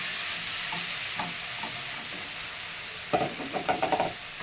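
Chopped ridge gourd sizzles and fries in a pan, with a steady hiss throughout and a few louder scraping, clattering bursts of stirring near the end.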